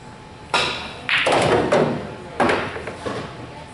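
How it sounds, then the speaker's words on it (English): Pool cue striking the cue ball for draw shots during a stroke lesson at Barefoot Bob's pool hall: several sharp, fairly close knocks at uneven intervals over a quiet room. "See, that was like a draw shot"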